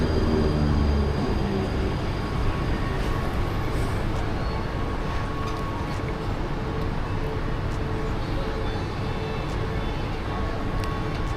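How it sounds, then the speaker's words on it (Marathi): A Mumbai local train runs between Govandi and CSMT near Cotton Green, its loud, steady rumble and rattle carrying on throughout with small squeals and knocks, no voices. "बघू शकता ट्रेन आपण चाललेले बघा"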